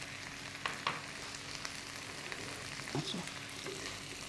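Okra in a yogurt curry with turmeric frying in a pan, a steady soft sizzle with a few scrapes of stirring near the end, and a brief word spoken over it.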